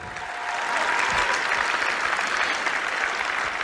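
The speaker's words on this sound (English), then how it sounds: "Let's give them another big round of applause for their hard work." Applause at the opening ceremony of the 2017 FIRST Tech Challenge Iowa Championship: a crowd's steady clapping that swells slightly after a softer start and then holds at a constant level.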